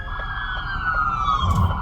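A police car siren approaches from behind a moving vehicle, with a steady, slightly gliding wail that is clear and fairly loud over low road rumble and swells near the end.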